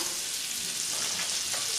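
Butter melting into hot oil in a pan before cooking scallops, a brief even hissing sizzle, close and moderately loud, with no voices.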